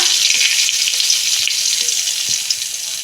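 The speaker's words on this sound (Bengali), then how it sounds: "ওই তেলে আমি একটা তেজপাতা" A bay leaf dropped into hot oil in which potatoes were fried produces a loud, steady sizzle with small crackles, close and continuous throughout.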